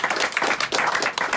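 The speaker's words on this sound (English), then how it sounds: "Your hands will be sore because there's going to be a lot of clapping." Wedding guests applaud after a speech with a dense burst of many hands clapping together, loud and close throughout.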